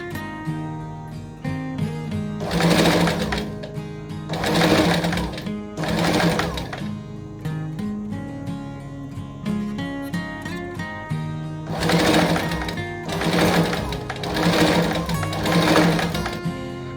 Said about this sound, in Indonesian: Ini dijahit persis di samping ini nih, di sisi resletingnya ya, supaya rapi ya.